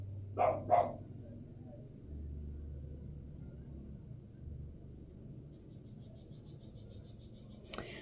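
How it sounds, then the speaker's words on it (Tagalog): A dog barks twice in quick succession outdoors, moderately loud over a steady low rumble, with faint insect chirping later and a sharp brief noise at the end. "Yung aso sa labas"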